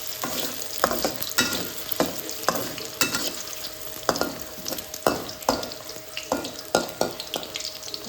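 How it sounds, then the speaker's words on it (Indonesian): Bakso meatballs fry in hot oil with a steady close sizzle, broken by repeated sharp scraping clacks of a utensil stirring them about the pan at a roughly regular pace. "Ini dia penampakan bakso yang kita goreng."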